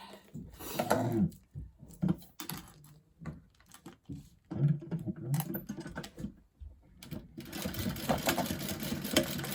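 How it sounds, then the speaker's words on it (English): Sewing machine stitching a swivel clip onto a fabric bag, short bursts of rattling mechanical stitching broken by pauses and handling clicks, ending in a longer steady run. "I'm going to take my other swivel clip and sew that on there"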